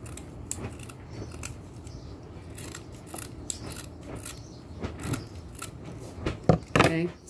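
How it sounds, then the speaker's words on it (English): Scissors trimming macrame string on a plant hanger, with repeated short snips and rubbing cuts spread through the stretch, a voice speaking in between. "Okay, so I'm going to trim it."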